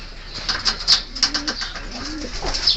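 Racing homing pigeons at a fancier association's race loft give soft cooing calls mixed with short wing flaps and rustles, close and fairly clear, with no speech.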